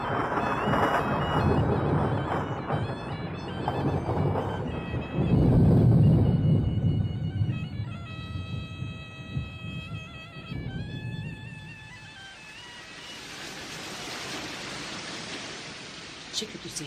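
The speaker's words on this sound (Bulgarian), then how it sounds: "Че като се извила страхотна буря. Рукнал проливен дъжд." A raging mountain thunderstorm with pouring rain, a dense roar of downpour and rumbling thunder swelling loudly, then easing into a steadier hiss, with a tonal music layer running over the middle.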